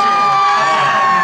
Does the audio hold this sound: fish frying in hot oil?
no